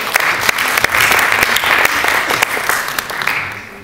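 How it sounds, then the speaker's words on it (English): Loud, sustained audience applause at a physics lecture on the quantum Zeno effect, with many sharp individual hand claps standing out from a dense, steady patter over several seconds. "Big applause for you."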